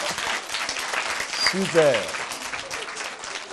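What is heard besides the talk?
audience applause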